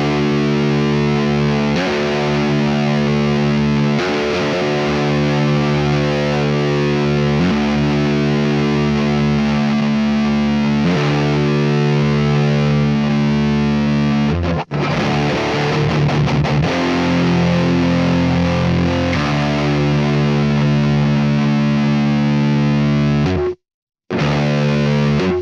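A heavily distorted electric guitar runs through a Neural DSP Mesa Boogie Mark IIC+ amp plugin, playing loud, continuous chugging riffs with sustained chords and one brief cut near the end.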